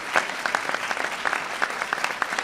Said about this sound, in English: you can clap for Charlotte